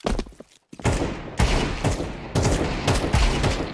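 Rapid bursts of Counter-Strike 2 gunfire, repeated sharp shots in quick volleys close up, with a brief pause near the start.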